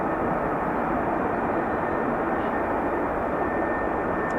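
An F-35B stealth jet hovering at an air base: a steady, loud roar of jet engine noise fills the whole stretch without letup, broadband and constant, with no voices.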